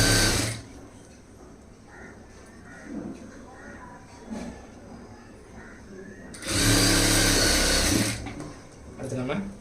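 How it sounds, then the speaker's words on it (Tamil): A sewing machine runs a straight line of stitching on a lined stone-model blouse, one loud, steady burst of about two seconds after a quieter stretch with a voice talking. "இப்போ நேராக தையல் போட்டுடலாம்"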